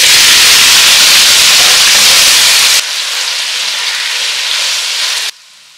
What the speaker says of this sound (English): I'm going to caramelize this for color and depth of flavor.